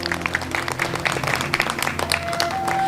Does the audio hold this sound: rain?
no